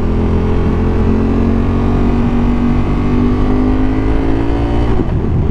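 A KTM Super Duke 1290 motorcycle engine pulls hard and loud at close range, its tone climbing steadily through a sustained rev before easing off sharply at the end, with no talk.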